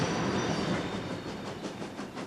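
A railway train runs past in a steady, loud rumbling roar with faint rhythmic wheel clatter, continuous and close for the whole stretch.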